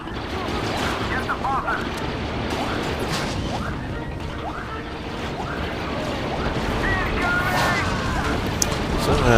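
Gunfire and grenade blasts in Star Wars Battlefront 2, a steady clatter of shots and crashing impacts building slightly in intensity, under a voice talking throughout.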